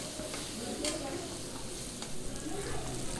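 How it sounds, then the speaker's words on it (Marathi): Tomato and onion sautéing in a pan for homemade pasta, a steady close sizzle with stirring scrapes and spatula taps scattered through it. "तर तो याच्यामध्ये व्यवस्थित परतवून घ्यायचा आहे."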